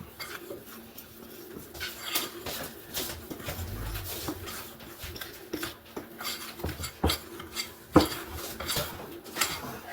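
Ingredients for a chicken pot pie casserole's biscuit topping being mixed in a bowl, with busy clinks and scrapes of utensils against the dish, close and steady, with a few sharper knocks.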